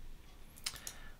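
Keys tapped on an AZERTY computer keyboard, two or three faint, sharp clicks in quick succession over a quiet low background hum, heard alone.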